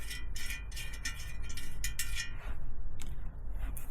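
A nut is wound back off a threaded stud fitted into a Helicoil-repaired engine case, giving rapid bursts of close metallic ratcheting clicks in an uneven rhythm, with no talking.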